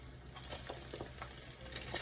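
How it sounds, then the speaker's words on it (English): An egg fries in a pan and is flipped with a fork: a continuous sizzle runs under light scraping and tapping, with a few soft clicks near the end. "then I'm going to flip this egg over. I use a fork."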